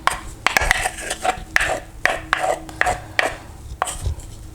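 A spoon scraping batter or pudding mixture out of a dish while making Queen of Puddings, repeated close scrapes and knocks against the bowl in an uneven rhythm, fairly loud, with no talking.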